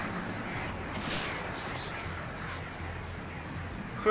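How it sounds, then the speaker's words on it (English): Flock of attacking crows in the Alan Wake video game, cawing steadily as a dense, harsh chorus that fills the whole stretch at a loud, even level. "Crazy ass birds, stop it!"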